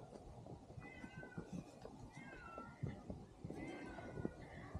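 A cat meows several times outdoors on a cliff expedition, short rising cries spaced across a few seconds, moderately close over faint background noise.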